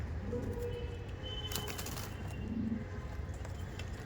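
Giribaj pigeons in a loft give soft, low coos amid a faint rustling background, with a brief flutter of wings partway through and no one speaking.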